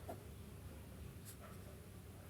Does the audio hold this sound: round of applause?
no